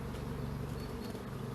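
Honeybees in a neglected old hive, filling the air with a steady, dense, close drone of buzzing that holds evenly throughout, with no talk.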